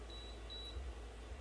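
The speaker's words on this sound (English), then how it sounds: "So when you hear the beep, that's when we'll look." A kitchen timer beeps twice in quick succession to signal that steamed dumplings are done, a thin electronic tone over a steady low hum of background noise.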